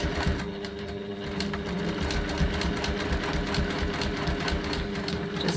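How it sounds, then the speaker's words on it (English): A sewing machine stitching a second line along the seams of a bag, close to the first stitching: a steady, rapid mechanical whirr and needle chatter running continuously at close range. "I also like to stitch these seams twice, so I'll just do that now for this one."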